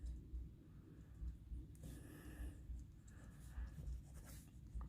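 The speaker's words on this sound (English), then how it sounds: "then you can just sketch the floor out behind him" Pencil scratching across paper while sketching the floor behind a chibi Spider-Man figure, a soft, continuous close scratching with brief pauses between strokes.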